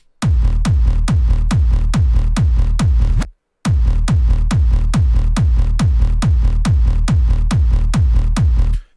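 A punchy hard trance kick drum hammers a steady four-on-the-floor loop, each hit booming with a long distorted tail, loud and alone, cutting out briefly near the middle before resuming.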